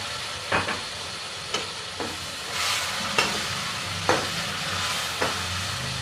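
Chicken for biryani sizzles and fries steadily in a pan, close and moderately loud, with several sharp scraping knocks as it is stirred and no talking.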